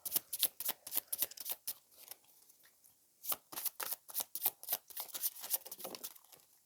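Tarot cards being shuffled by hand, a quick run of close, crisp riffling flicks in bursts, a short pause, then another rapid series of card snaps, quiet overall with no talk.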